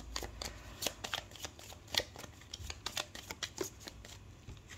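Tarot cards being shuffled by hand: a quiet, steady run of crisp riffling flicks and soft slaps, close and alone without talk.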